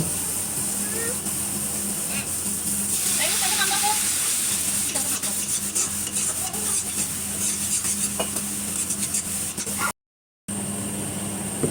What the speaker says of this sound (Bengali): এখন মশলাটা আবার ভালোভাবে একটু কষিয়ে নেব